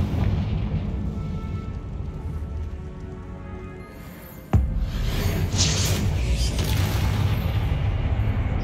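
Confringo fire spell blasting in Hogwarts Legacy: a sharp explosive crack midway through a steady rumbling game ambience, followed by a bright crackling burst.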